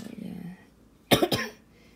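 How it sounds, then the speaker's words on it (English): A woman gives a short double cough, sharp and close, right after a brief stretch of her speaking voice. "Oh my gosh, this cough is so annoying."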